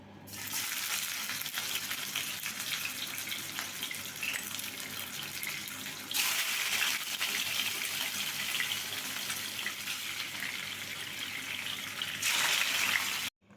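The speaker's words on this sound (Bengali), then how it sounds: "আর এবার আমি এক এক করে মাছগুলো ভেজে নেব।" Rui fish pieces fry one by one in hot mustard oil in a wok, giving a steady, dense hiss and crackle throughout, with brief surges as more fish goes in; close and continuous, no voices.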